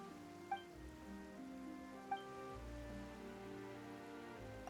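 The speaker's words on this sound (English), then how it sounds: "Why is it raining all..." Steady rain falling in Genshin Impact, a soft continuous patter under a layer of sustained in-game music, with a few faint chime-like plinks standing out.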